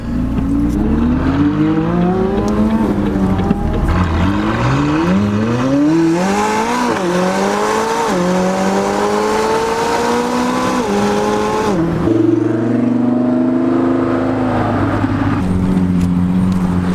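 Sports cars, including a McLaren 600LT Spider and a Lamborghini Murcielago, pulling away with engines revving up through rising gear pulls, loud and close, the roar shifting pitch repeatedly before settling to a lower drone.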